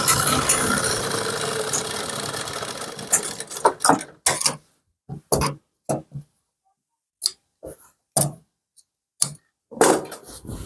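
A sewing machine stitches a kurti in a continuous whirring run for about four seconds, then stops and restarts in short separate bursts with silent gaps between them.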